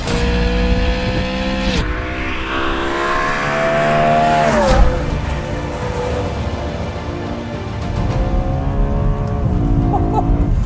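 A BMW E92 M3 Competition V8 engine revs hard past 8,000 RPM and climbs to a high-pitched scream, drops, then revs again, loud and close, with no talking.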